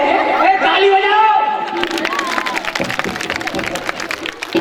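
Audience clapping during a devotional stage performance of the Tulsi–Shaligram wedding leela, rising after a sung or spoken opening into a busy crowd patter mixed with chatter and voices.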